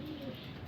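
Pigeons coo softly at a loft as they come in from flight, a faint low murmur heard alone against quiet background noise.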